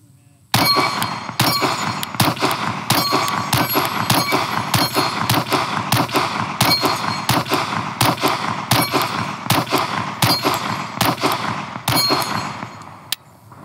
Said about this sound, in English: let's keep shooting it with the 17 round magazine